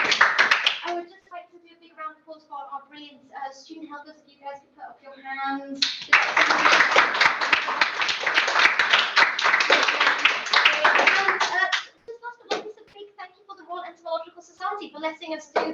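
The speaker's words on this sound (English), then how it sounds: "I would just like to do a big round of applause for our brilliant student helpers" An audience at the inaugural meeting of a welfare and ethics special interest group breaks into dense, loud applause lasting about six seconds. A single voice talks before and after it.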